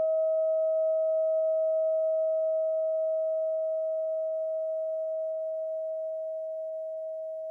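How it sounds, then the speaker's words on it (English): A tuning fork keeps ringing at the green heart frequency in a hypnosis healing session, a clean sustained pure tone that slowly fades toward the end. No voices. "As I strike the tuning fork for the color green"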